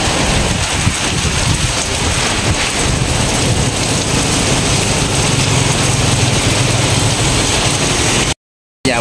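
Heavy rain pounding down in a strong wind during a storm sweeping inland over Vietnam, a loud, dense, unbroken roar of rain and gusts with low rumbling underneath, cutting off abruptly near the end.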